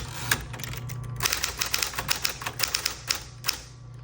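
Crisp, rapid keystrokes on a 1960s Smith Corona Coronet electric typewriter, a single strike followed by a steady burst of clacks over the low motor hum, heard up close.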